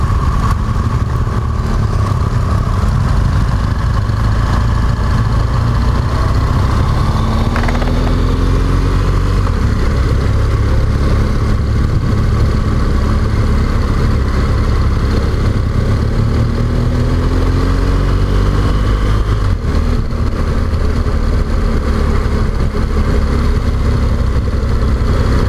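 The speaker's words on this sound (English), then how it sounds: "Love that sound when you're sat in traffic and you hear them all burbling away." A group of motorcycles on a rideout idle and burble together in traffic, a loud, continuous low rumble with occasional throttle blips and rising revs from nearby bikes.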